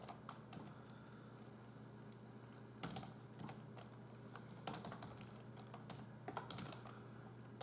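Code is typed on a computer keyboard with a run of light, close key clicks at an uneven pace over a faint steady background hum.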